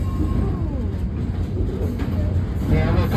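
A museum railroad train rolls downhill with a steady, close rumble of wheels on track, faint clicks and metallic squeals over a continuous roar.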